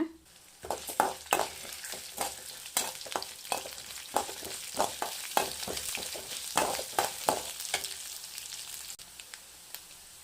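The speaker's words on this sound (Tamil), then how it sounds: "கொஞ்சமாக எண்ணெய் விட்டுக்கலாம் இதெல்லாம் போட்டுடலாம் சிம்மிலே வச்சு வதக்குங்க" Spices sizzle in a little oil over low heat for mutton gravy, with soft continuous frying hiss broken by repeated scraping stirs of a spoon in the pan, close and steady, no talking.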